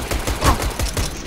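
Gunfire in a pistol battle, a quick run of rapid close pops in a short burst, no talk.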